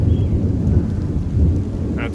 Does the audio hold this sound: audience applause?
no